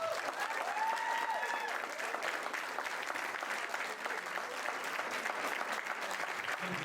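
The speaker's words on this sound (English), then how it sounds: "just keep clapping for everybody at the chamber, Joel, Marilyn, Cliff, James, TJ" An audience applauds at a school board candidate forum, sustained even clapping from many hands in an indoor room, moderately loud and continuous throughout without any talk.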